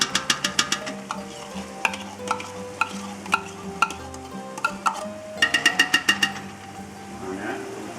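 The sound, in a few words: scooping pasta sauce out of a pot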